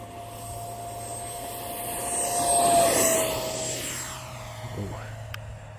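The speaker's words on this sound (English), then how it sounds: "let's get this plane up in the air." A Freewing 70mm BAE Hawk RC jet's electric ducted fan whines and rises in pitch, swelling to a peak then fading as it moves past and away, with a faint ongoing hum beneath.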